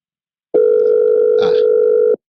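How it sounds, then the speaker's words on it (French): A telephone sounds one steady electronic tone, loud and close, holding for about a second and a half on its own before cutting off abruptly. "Ça a sonné."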